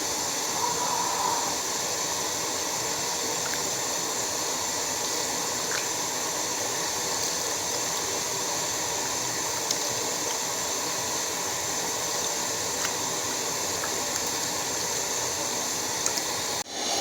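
Rice rinsed in water for sweet zarda rice, a steady close splashing and sloshing of water with a faint hiss, continuous for the whole stretch and no talking.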